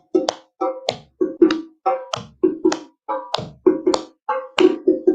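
Sharp, close hand claps ring out in a steady repeating beat during a West African dance class, falling in quick pairs and singles at an even tempo with nothing else around them.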